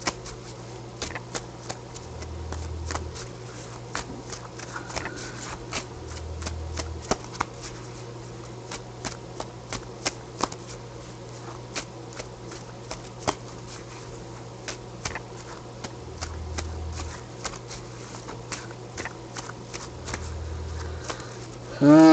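Repeated crisp riffling and snapping of a deck of NHL hockey cards being shuffled, a steady run of quick clicks over a faint low hum.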